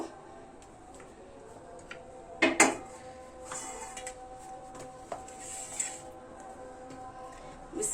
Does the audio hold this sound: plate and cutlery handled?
yes